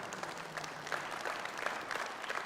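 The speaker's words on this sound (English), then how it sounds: "Cheer for the BBC." Audience at the Liberal Democrat Spring Conference claps and cheers, a steady wash of hand claps with some raised voices, fairly close and sustained with no speech over it.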